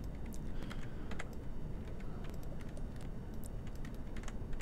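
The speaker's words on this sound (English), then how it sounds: "I don't know if you can hear me type in this keyboard, it's kind of loud." Steady, close clatter of keys being typed on a loud mechanical computer keyboard, continuous fast keystrokes with sharp individual clicks throughout, no voices.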